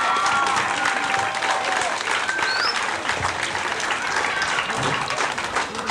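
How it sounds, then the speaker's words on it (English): An audience claps for parents at a 1986 children's graduation ceremony, a dense, continuous round of applause with a few faint higher tones and voices mixed in beneath the clapping. "join me in giving your parents a nice round of applause for the great job they've done"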